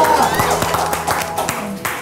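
Studio audience applause on an Indonesian entertainment talk show: a short burst of many hands clapping close by, mixed with people talking over it.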